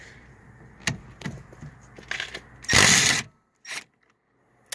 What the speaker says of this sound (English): try to take this nut off and just take the whole steering wheel off. I got 19 millimeter right here.